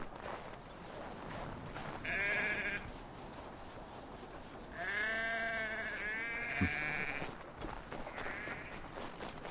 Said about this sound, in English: Is that a sheep?